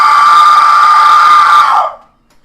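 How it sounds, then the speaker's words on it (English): Shrill, sustained banshee scream effect during a tabletop role-playing session, one loud piercing wail held for nearly two seconds before cutting off abruptly. "It raises up and screams a banshee scream."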